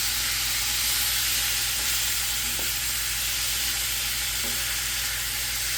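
Food sizzling and frying in hot oil in a pan while being stirred around, a steady close hiss with faint scraping; the pan is not hot enough in spots so the food sticks. No talking.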